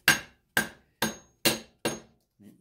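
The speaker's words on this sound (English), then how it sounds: "just take a piece of wood and a hammer" Five sharp, evenly spaced hammer blows strike a block of wood held against an AR-15 barrel extension to drive it into place, each ringing briefly before decaying, followed by a softer, duller knock at the end.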